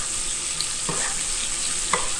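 Steak fries in a pan of butter and oil with a steady close sizzle and spatter throughout, and a couple of soft scraping clinks from turning or stirring.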